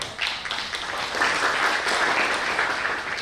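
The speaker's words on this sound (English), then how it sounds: "We want to clap for our panel as they take back their seats." A symposium audience applauds the panel at the session's close, with dense, even clapping from many people sustained throughout.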